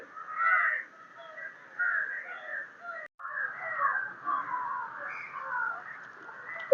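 A flock of crows caws over and over, harsh overlapping calls filling the air with a brief pause midway before the racket resumes.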